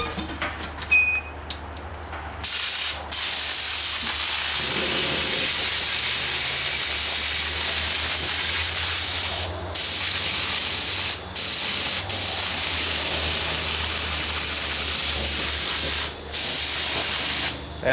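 A compressor-fed spray gun at about 60 psi sprays toilet ring wax as vehicle undercoating, hissing loudly and close in long bursts separated by brief pauses.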